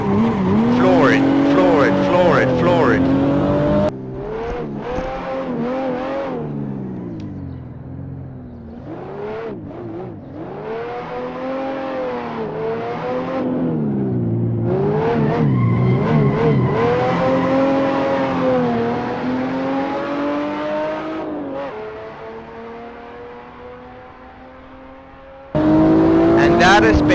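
A rear-wheel-drive car drifts with the throttle floored, the engine revving high and wavering while the tires squeal, the sound loud and close and broken by brief drops as the revs fall and climb again.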